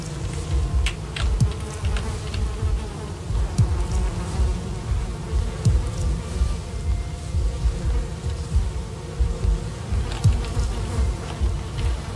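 Bees buzzing in Valheim, a steady insect drone running through the whole stretch with small swells and scattered brief clicks from the game world, no talk over it.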